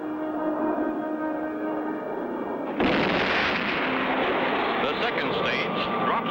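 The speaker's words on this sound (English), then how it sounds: "the third stage rockets light up" Rocket stages fire in an animated cartoon. A droning engine tone gives way to a sudden loud roaring blast that rumbles on without a break, with voices speaking over it.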